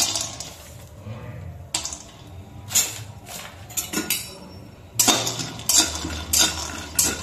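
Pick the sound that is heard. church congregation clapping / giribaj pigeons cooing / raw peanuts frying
raw peanuts frying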